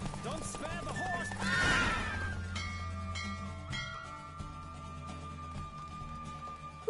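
A horse in The Witcher 3 video game whinnies and gallops, a rising neigh near the start over steady hoofbeats, with game music and voices running throughout.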